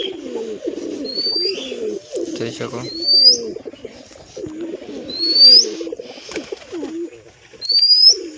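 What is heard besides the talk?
pigeons cooing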